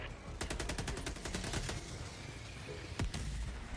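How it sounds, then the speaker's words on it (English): Enemy artillery rockets firing in a sci-fi space station battle, heard as a fast run of sharp repeated launches followed by a couple of heavy booms, all fairly faint and distant. "Enemy artillery."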